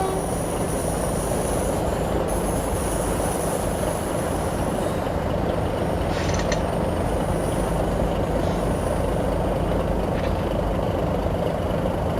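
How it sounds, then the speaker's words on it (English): A train rolls past in Euro Truck Simulator 2 on a Russian route toward Luga: a steady, loud rumble of wagons and wheels holds throughout, with a thin high squeal running along the top and no one speaking. "Another train."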